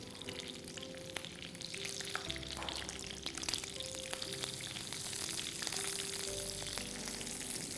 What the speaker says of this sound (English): So let our chilies fry for a bit.